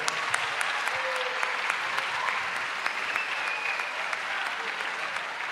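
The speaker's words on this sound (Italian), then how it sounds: "Un applauso a Maria e a tutti i bambini del coro." A live audience in Ollolai claps for Maria and the children's choir, a full, steady roar of hands lasting several seconds with a faint voice or two rising through the clapping.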